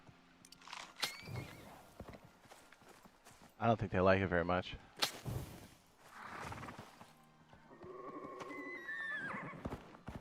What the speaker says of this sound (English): The great experiment of stuffing horses in a pen in game.